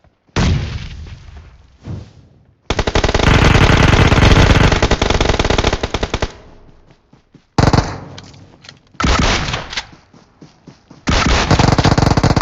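Shotgun blasts in a shooter video game, loud booming shots in several bursts with rapid gunfire and short gaps between them, close and dominant with no talk.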